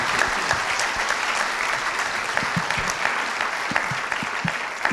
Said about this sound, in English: How about a round of applause for our panelists in their first response here?